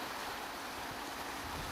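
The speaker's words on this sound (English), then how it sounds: "here's the water coming out from the new gates" Muddy water pours out of newly built canal diversion gates beside a road, a steady broadband rush that stays even throughout at moderate distance, with no voices.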